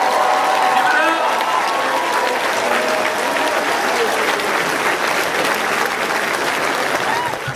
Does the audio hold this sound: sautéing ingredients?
no